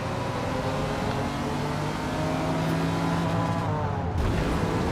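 A race car engine in the Forza Motorsport video game drones steadily at high revs, a continuous loud tone that shifts slightly in pitch as it drives, with no talk over it.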